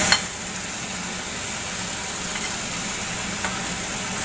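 Fried flat beans cooking down in spiced oil in a pan, a constant soft sizzle with a light clink at the start and occasional faint scrapes of stirring, no voices.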